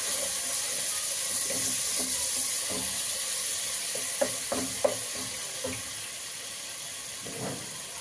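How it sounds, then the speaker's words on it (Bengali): Chicken pieces dropped into hot oil give a steady, close hissing sizzle that runs throughout, dotted with a few soft clicks and knocks of a utensil, and no one speaks. "তেলটা গরম হয়ে গেছে, এর মধ্যে আমি চিকেনগুলো দিয়ে দিলাম।"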